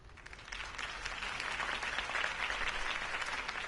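A crowd in the video game Batman: The Telltale Series claps and cheers steadily, swelling slightly and holding loud throughout.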